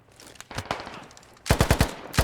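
A burst of rapid automatic gunfire in a squad shooter video game, a few scattered shots first, then a fast loud volley of about six rounds close by.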